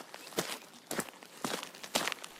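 People walking at night, four or five evenly spaced footsteps landing close by at a steady pace, with no talking.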